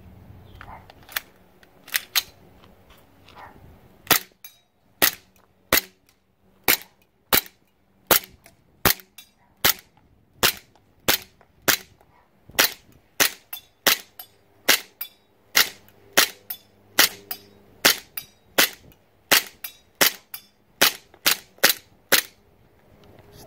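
ASG CZ-75 SP-01 Shadow gas blowback airsoft pistol firing outdoors, a long string of sharp, crisp pops with blowback clack, spaced unevenly from rapid pairs to slower single shots, loud and close.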